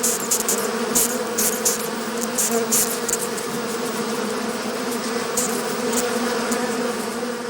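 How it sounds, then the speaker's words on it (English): A swarm of bees drones in a dense, steady buzz as they mob a death's head moth, loud and close and continuing throughout with no voices. "The bees swarm to the spot to attack the robber with their stings."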